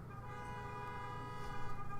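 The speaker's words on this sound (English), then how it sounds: "there was some excitement outside with honking horns" Car horns honk outside, sounding faint and distant as sustained, overlapping tones that swell slightly toward the end.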